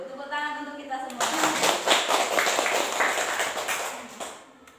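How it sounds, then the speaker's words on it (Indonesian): A group of people bursts into applause during an indoor school training session after a countdown, dense hand clapping that starts suddenly after a brief voice and holds steady before tapering off. "Tepuk tangan untuk kita semua."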